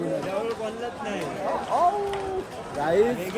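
Dense crowd chatter fills Dagdusheth Ganpati temple in Pune, a packed festival throng of overlapping voices at close range, with some louder calls rising out of the babble.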